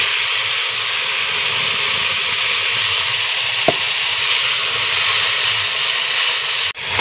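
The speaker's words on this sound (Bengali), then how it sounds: "আগে পেঁয়াজ রসুনের পেস্ট একটু ভালো করে ভেজে নেবো, যাতে কাঁচা গন্ধটা চলে যায়" A paste of onion, garlic and ginger frying in a pan with whole spices and cumin, a loud, steady sizzle and hiss close by with a brief stir in the middle and a short break near the end.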